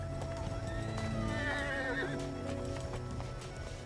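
A horse in an action-adventure film trailer whinnies in a rising and falling neigh over steady clip-clopping hooves, with a musical score underneath throughout.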